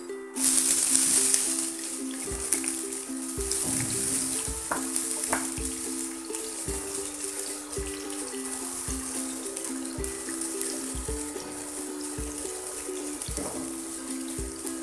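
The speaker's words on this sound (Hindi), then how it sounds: "प्याज को हल्का सा ब्राउन होने तक फ्राई करेंगे।" Onions fry in oil in a pan, a continuous close sizzle with occasional stirring clicks and scrapes and a steady hum of a kitchen appliance underneath.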